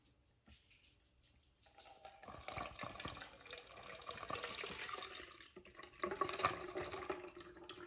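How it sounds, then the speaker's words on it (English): Distilled water poured into a spray bottle, a close, quiet trickle that builds into a fuller liquid splash over several seconds. "I'm gonna put distilled water into it"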